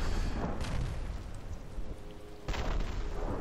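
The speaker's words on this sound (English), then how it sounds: "There is mortar fire, which is pretty cool." Mortar fire rumbles in the World War I shooter Verdun, a steady low booming wash with a sharper burst near the end, heard without talk.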